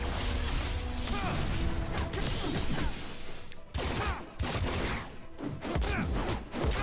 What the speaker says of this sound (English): we got the explosion